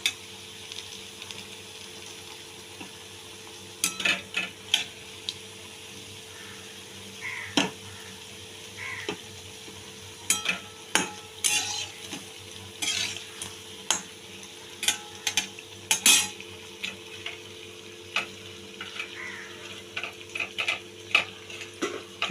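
Drumstick flower fritters frying in oil in a pan, giving a soft steady sizzle with frequent sharp ticks and small pops scattered throughout, fairly quiet and with no voices.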